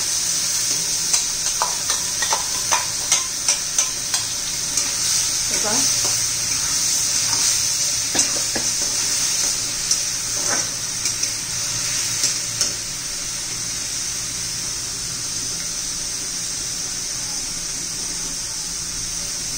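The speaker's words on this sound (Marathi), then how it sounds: "छान असा तडका बसला पाहिजे आपल्या या चटणीला." Radish chutney tipped into a hot cumin-mustard tempering with turmeric, giving a loud, steady sizzle close up, with scattered sharp stirring clicks and pops early on that ease into a continuous frying hiss.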